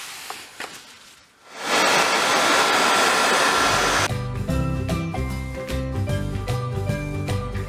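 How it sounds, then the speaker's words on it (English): A hairdryer blows steadily on a dolls house living room, a loud continuous rushing whoosh that starts abruptly after a quiet moment, then continues with music playing over it. "go and get my hairdryer and give that a quick blast"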